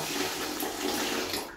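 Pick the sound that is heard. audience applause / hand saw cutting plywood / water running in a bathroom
water running in a bathroom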